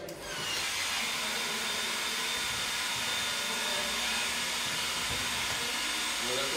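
A hair dryer blows a steady stream of hot air that keeps a ping-pong ball floating, shown at a school open day. The airflow gives a loud, constant broadband whoosh from start to finish, with faint voices underneath.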